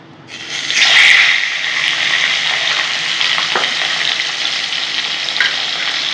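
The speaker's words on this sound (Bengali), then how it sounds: "আমি সব মাছগুলো এরকম করে ভেজে নিচ্ছি।" Fish frying in hot oil in a pan, a loud, steady crackling sizzle with a sharp burst near the start as pieces hit the oil, then continuous bubbling hiss with occasional pops.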